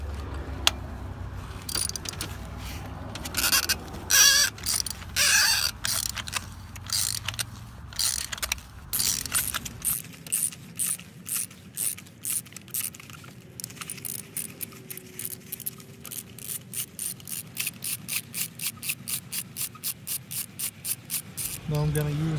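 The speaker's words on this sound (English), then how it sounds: "Now time to unscrew the spark plug." Spark plug being unscrewed with a hand tool on a 2007 Mercedes-Benz ML350, giving a long run of quick metallic ratcheting clicks, steady and close, with rattling and rubbing early on and no talk.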